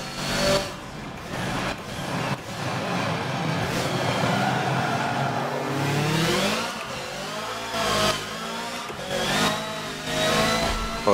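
A race car engine in Forza Motorsport 7 revving and accelerating through gear changes, loud and close, with rising pitch sweeps broken by brief drops and surges, and no talk.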